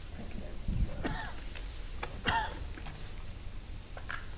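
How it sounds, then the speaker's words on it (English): Coughing and throat clearing at a poker tournament, a few faint, scattered coughs in a quiet hall with low room murmur. "A lot of coughing going on."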